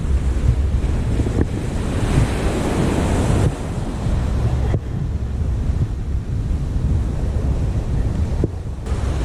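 Strong wind roars across the microphone on Great Yarmouth beach while surf breaks and washes nearby in a loud, continuous rush, with no voices.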